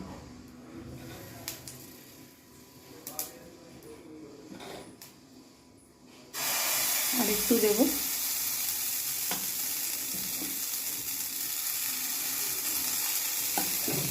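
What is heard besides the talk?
rice batter for sorucakli pitha sizzling on a hot pan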